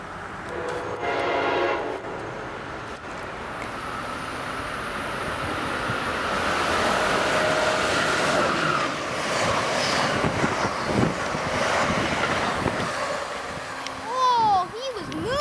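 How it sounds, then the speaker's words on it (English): Amtrak Pennsylvanian passenger train passing a station, a long sustained rumble of cars rolling by with a brief horn blast early on, and excited voices talking over it. "This should be Amtrak 43, the Pennsylvanian to Pittsburgh."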